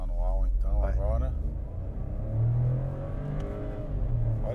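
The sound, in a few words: Volkswagen Polo 200TSI engine revving while accelerating on track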